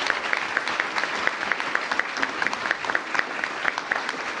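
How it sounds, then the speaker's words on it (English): A crowd applauds at a mayoral press event announcing PARCC assessment gains, sustained clapping with individual claps standing out in a regular rhythm. "Please give them all a big round of applause."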